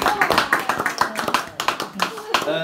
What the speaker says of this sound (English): Round of applause for Claudia.